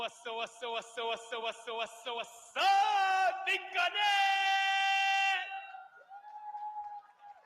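Recorded crowd noise in which rhythmic chanting gives way to a loud sustained roar of cheering and yelling that fades out, played back with no one talking over it.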